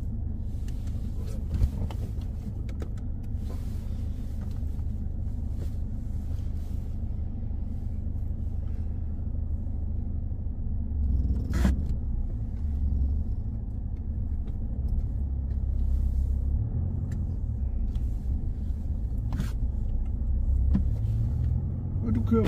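A car driving on the road during a driving lesson, giving a steady, close low rumble of engine and road noise throughout, with a few faint clicks and bumps and no clear talk.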